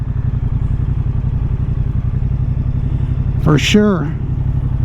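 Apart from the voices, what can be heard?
2023 Moto Guzzi V100 Mandello motorcycle engine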